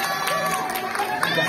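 Schoolchildren at a primary school science fair clapping and cheering together, a dense, loud burst of crowd noise with excited voices throughout.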